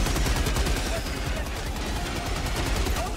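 Sustained automatic gunfire from a sentry turret in Helldivers 2, a dense rapid stream of shots with heavy low rumble running loud and unbroken throughout.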